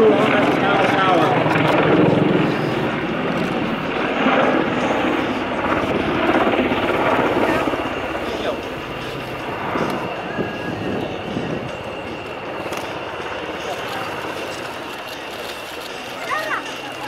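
A Boeing AH-64 Apache attack helicopter in a steep nose-down dive at an air display, its rotor and engine roar loud and steady throughout, with a voice talking over it.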